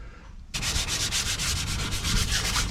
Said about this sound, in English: Got a light little sanding with 400 grit sandpaper between coats to finish.